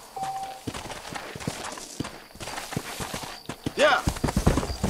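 Hooves of a newly broken-in horse in Red Dead Redemption clop along in an irregular walking rhythm, fairly quiet, with game ambience around them and a sharp burst near the end.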